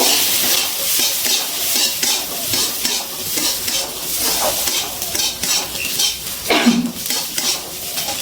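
Green peas being stirred in a frying pan for a vegetarian radish dish, a continuous sizzle with scraping strokes of a utensil against the pan and occasional clinks, close and loud with no talking.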